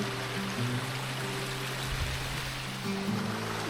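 Steady broadband rush of a waterfall at a wild campsite on a hot summer morning, constant and fairly close, with a faint low hum running underneath.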